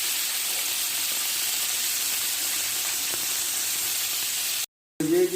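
Chicken stick tikka fries on a flat tawa in a loud, steady, close sizzle that runs unbroken until a brief dropout near the end.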